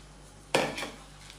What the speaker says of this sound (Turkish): Güzelce karıştırıyorum. Bütün malzeme birbirine girsin.